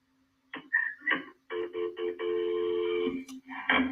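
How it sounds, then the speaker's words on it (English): After a brief silence, a short sequence of telephone tones beeps out, one tone held longer, followed by a faint click and more beeps. "Then we heard the phone sound like a phone dial."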